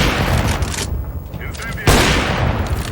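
In the shooter game CS:GO, a grenade detonates with a loud, heavy blast, one roaring burst that drops off briefly before a second sharp explosive hit follows amid rumbling game noise.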